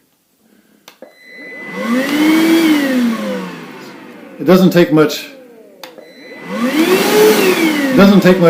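A Metabo AS 18 HEPA PC compact portable vacuum whirs up loudly and winds down twice, its motor whine swelling and fading, with someone speaking briefly in between.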